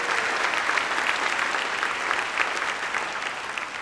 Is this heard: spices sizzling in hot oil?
no